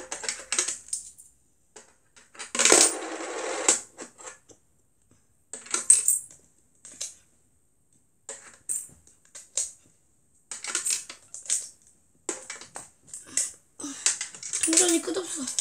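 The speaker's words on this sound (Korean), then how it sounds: "그냥 동전 넣어볼게요." Coins drop one after another into a toy safe, producing scattered metallic clinks and rattles in irregular bursts, close and moderately loud, with quiet pauses between.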